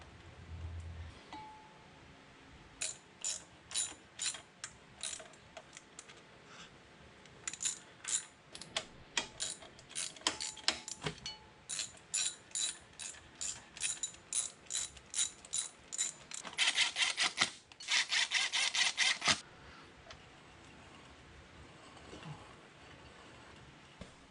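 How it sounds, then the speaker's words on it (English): Hex head screws being fastened on a pulley bracket attached to a machine's power feed and rapid traverse takeoff bracket, heard as dense runs of close metallic ratcheting clicks in bursts, with louder rapid rattling near the end and no talk. "I'll use the hex head screws to refasten the pulley bracket to the power feed and rapid traverse takeoff bracket."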